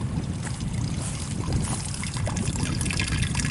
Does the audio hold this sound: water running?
yes